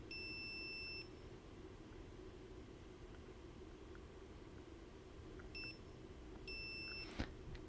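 Continuity beeps from a multimeter probing solder pads on a DIY DMX LED driver board: one long tone at the start, then two shorter beeps later, each alone over faint room hiss, followed by a small click.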